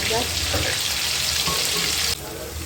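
Turmeric and asafoetida dropped into hot oil for a Puneri misal: a loud, dense, steady sizzle close by that eases off abruptly near the end.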